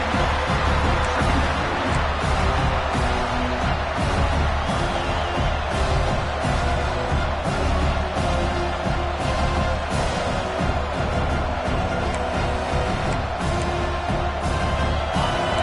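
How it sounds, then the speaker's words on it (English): A football stadium crowd roars continuously, a dense, loud wall of voices and cheering that holds steady throughout with no break. "The roar of the crowd trying to fuel this defense to keep them pinned in their own end"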